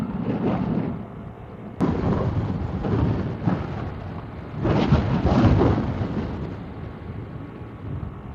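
Heavy, roaring gusts of strong wind near Mamburao, Mindoro, buffet the microphone throughout, a broad rumbling rush that surges and eases without pause, loud and close.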